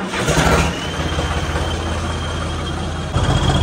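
A tractor engine turns over and settles into a steady, loud low idle, with a strong continuous rumble throughout and a brief surge near the start and again at the end.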